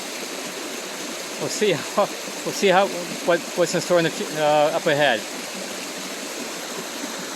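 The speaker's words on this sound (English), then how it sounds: "this is the third that I can call a waterfalls" Steady broadband rush of a mountain waterfall with two drops near the McCraney Lake trail fills the whole stretch, heard close and constant beneath someone talking briefly in the middle.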